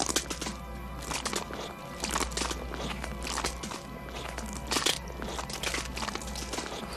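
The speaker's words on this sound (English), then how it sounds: "hideous bone-crunching sound effects" Hideous bone-crunching effects from a horror film as a contortionist actress does a creepy spider walk, giving a run of sharp cracking crunches and snaps in an uneven rhythm, up close and fairly loud.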